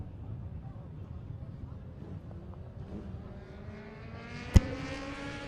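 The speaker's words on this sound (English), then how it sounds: "A couple of bikes still making their way around" Racing motorbikes, Kawasaki ZX10R machines in a Masters Cup field at a regional festival, droning around the circuit at a distance, a steady engine hum with a sharp brief crack near the end.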